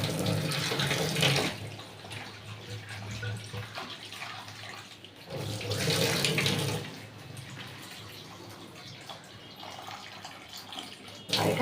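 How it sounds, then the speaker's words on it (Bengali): Running tap water splashes steadily while cut potatoes are rinsed, with brief louder gushes at the start and again around the middle, and no talking. "তো এখানে আলুটা এখন ধুয়ে নিচ্ছি।"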